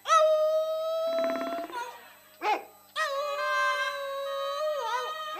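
A performer in a comedy stage play imitates a dog with his voice, producing long wavering howls, a brief yelp and more drawn-out whining howls, loud and close.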